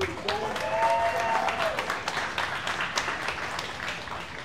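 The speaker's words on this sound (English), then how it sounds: "By round of applause, we're gonna pick the best." Audience applause at a live stand-up comedy showdown in a brewery, steady dense clapping throughout with a brief whistle or cheer near the start, moderately loud and close.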